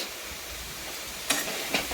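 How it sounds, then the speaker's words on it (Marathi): Grated raw potato and poha fry on a tava with a soft, continuous sizzle, broken by two brief scraping strokes of a spatula stirring the mixture, close and moderately quiet. "असं चांगलं परतून घेतलं"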